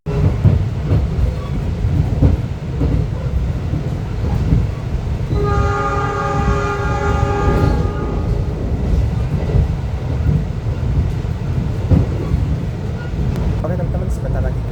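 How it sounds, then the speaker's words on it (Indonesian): A Pangandaran panoramic-class passenger train rumbles along steadily nearing Banjar station, with a long horn blast sounding midway over the continuous rolling noise. "sebentar lagi kereta api Pangandaran akan segera tiba di tujuan akhir, stasiun Banjar"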